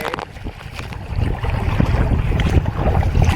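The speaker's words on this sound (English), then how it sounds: "Heading northeast to the mainland, directly into the swell and the wind. A little bit of a choppy ride for the next 10K." A boat pushing northeast into swell and wind off Ranong, with loud wind buffeting the microphone, hull slaps and rushing water building over a few seconds, near and continuous.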